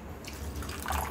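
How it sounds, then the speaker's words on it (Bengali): A small amount of water poured into a mix of vinegar and sugar, a short soft trickling splash that lasts about a second, close and fairly quiet with no talking. "আর আমি দিয়ে দিচ্ছি সামান্য পরিমাণ জল"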